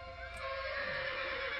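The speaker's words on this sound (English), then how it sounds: "The horses were pretty freaked out." Horses in the video game Minecraft neigh with a drawn-out whinny over a steady humming game background, close and clear.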